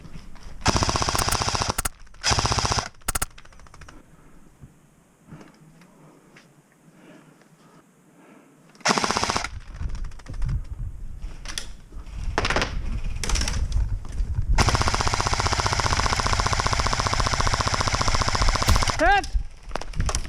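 An airsoft AEG machine gun fitted with a blowback kit fires rapid bursts outdoors during a game, with loud rattling strings of shots, quiet gaps between them, and a long sustained burst near the end.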